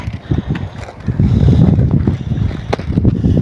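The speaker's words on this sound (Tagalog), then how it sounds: "Medyo mahangin po." Gusty wind buffets the microphone with low rumbling bursts, fairly loud and continuous, with no voices.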